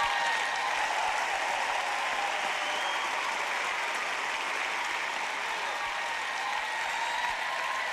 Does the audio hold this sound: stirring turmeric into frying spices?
no